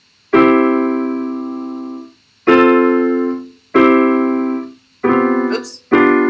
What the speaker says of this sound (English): So playing chords would sound something like this.